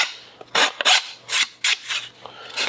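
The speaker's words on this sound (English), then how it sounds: "Gotta deburr." Guitar side wood being deburred with a hand file, heard as several separate rasping strokes in an uneven rhythm, close and loud, alone with no talk.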